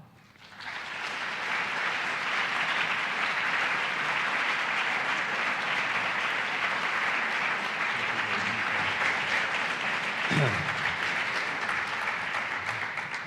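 A conference audience gives a warm welcome to marketing professor Dr. Philip Kotler, sustained steady applause rising quickly and holding at full strength across the room.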